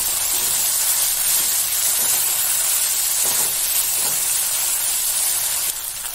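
Tomato masala frying in hot oil in a pan for pahadi aloo, a loud, steady hiss and sizzle with faint crackles running continuously throughout.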